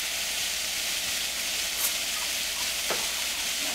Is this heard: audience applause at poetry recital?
no